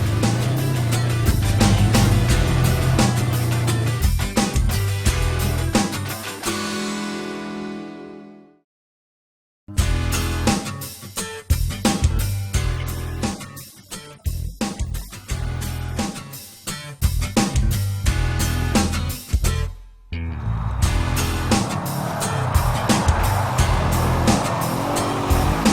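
A 2015 Polaris RZR 900 off-road side-by-side driving in 4x4 mode, its loud engine revving and surging in bursts, dropping out briefly before roaring again, close to the listener.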